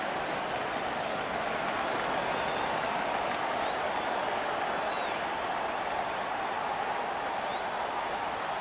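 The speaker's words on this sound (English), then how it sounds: "The Blues start to cheer as the review goal is deemed good." Hockey arena crowd at a St. Louis Blues game roaring steadily after a goal is confirmed on review, a dense continuous wash of cheering and applause throughout.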